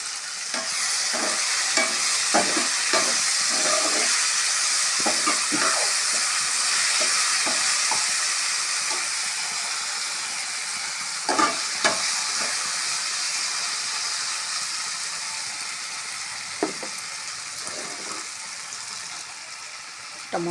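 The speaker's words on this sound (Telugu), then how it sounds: "టమాటో బాగా ఆయిల్లో ఉడికిపోయింది ఫ్రెండ్స్" Chopped tomatoes cook in hot oil in a home kitchen for a curry, sizzling and hissing steadily, with a spoon scraping and stirring the pan now and then, close and fairly loud, with no talking.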